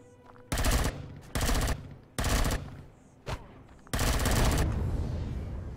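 Gunfire in the space survival game Empyrion Galactic Survival: loud bursts of automatic fire in four separate volleys, the last one long and sustained, with a single short shot between them, with no talk.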